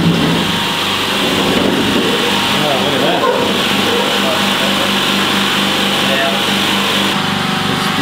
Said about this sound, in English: I'll have to start the compressor up.